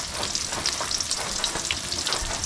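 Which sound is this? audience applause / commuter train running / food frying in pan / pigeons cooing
food frying in pan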